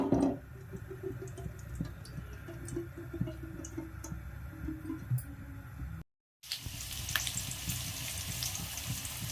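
Onion pieces frying in oil in a pan on a stove, a soft continuous sizzle with scattered crackles and ticks, fairly quiet and close, with no talk.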